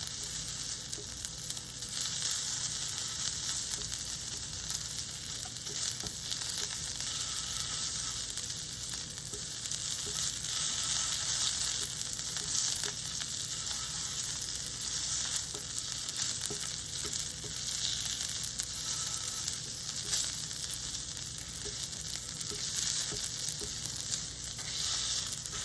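Japanese A5 Wagyu beef sears in a hot pan, giving a constant close sizzle and spatter that holds steady throughout, with no voices.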